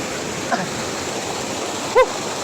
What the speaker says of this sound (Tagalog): Ito ang Hiloktugan Falls.